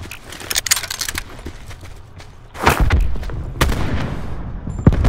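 Several gunshots in a video game, heavy booming thuds that land close and loud, a cluster early on and a bigger blast midway, followed by lingering rumble.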